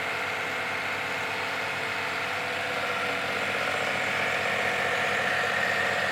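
A car engine idles steadily while being run through a Blackcore carbon-cleaning treatment, with the cleaner fed from the intake manifold through to the catalytic converter. A constant mid-range hum holds throughout, close and even, with no talk.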